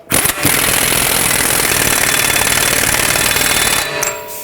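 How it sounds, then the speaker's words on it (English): An impact gun tightens the CV axle nut on a 2007-2010 Chrysler Sebring in one loud, continuous rattling burst of about four seconds, close to the mic, with a brief start and stop at either end. "Put the axle nut back on. I'm gonna bottom it out with my impact gun,"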